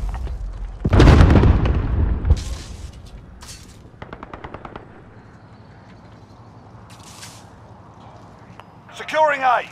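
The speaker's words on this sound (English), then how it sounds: "Grenade out." A grenade explodes with a loud, close, heavy boom in the shooter game Call of Duty: Modern Warfare (2022), followed by a rapid burst of gunfire and quieter background battle noise, with a voice heard near the end.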